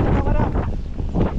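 Wind blows outdoors in a forest, a loud continuous rushing buffet against the microphone that masks everything else through the brief moment.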